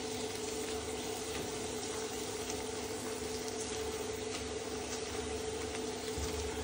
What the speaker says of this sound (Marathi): मी तेलामध्ये तळून घेते त्यांना।